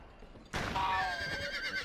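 A horse in the Western game GUN lets out a sudden loud whinny after a sharp onset, the wavering neigh carrying on for over a second above background game noise.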